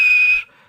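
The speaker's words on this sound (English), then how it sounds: "And he blew his whistle." A single steady, high-pitched whistle blast held for under half a second, then cut off abruptly, leaving quiet.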